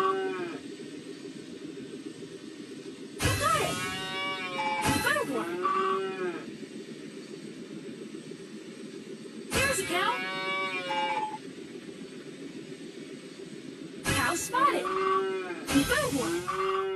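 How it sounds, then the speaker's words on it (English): Cartoon cows moo in a Paw Patrol farm video game, several distinct drawn-out moos arriving in separate bursts over a steady background music bed. "There's a cow."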